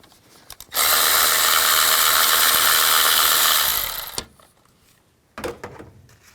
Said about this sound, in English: Take this bolt out, use a 10mm socket